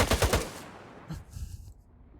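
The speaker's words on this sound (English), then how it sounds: "then you fire the, the big AK and it's like chunkier" A big AK rifle fires in the video game S.T.A.L.K.E.R. 2, a loud, chunky burst of rapid automatic shots followed by a short echoing tail and the clatter of brass.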